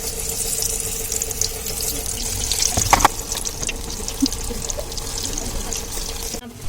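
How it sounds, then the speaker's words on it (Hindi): Spinach pakoras fry in hot cooking oil with a steady, dense sizzle and bubbling hiss that runs unbroken throughout. A short clatter comes partway through. "पकौड़े पालक वाले तले जा रहे हैं"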